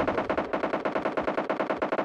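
Rapid automatic gunfire in the mobile battle royale game PUBG Mobile, a steady loud burst of evenly spaced shots lasting about two seconds with no pauses.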